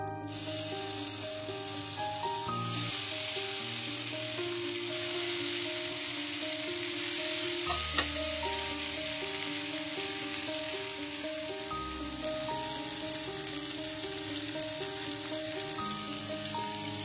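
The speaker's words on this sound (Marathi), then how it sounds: "आपण तव्यावर रोस्ट करून घेऊ. तव्यावर तेल आणि बटर टाकून घेऊ." Paneer on skewers roasting on a flat griddle in oil and butter, giving a steady close sizzle throughout with a few soft clinks and handling bumps, with no talk.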